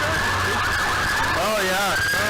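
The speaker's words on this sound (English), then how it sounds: "Oh, is that a fire truck?" A fire truck siren wails in the street, its rising and falling tone sounding loud and near as it passes, with traffic rumble underneath.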